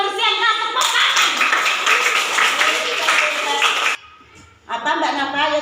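Students in a classroom clapping together in a burst of rhythmic applause, close and loud, with a teacher's voice speaking around the clapping and a brief pause before it resumes.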